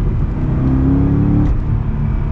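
A C6 Corvette Z06 engine revs hard while driving, a loud, steady, close-up roar with a slight swell in pitch partway through.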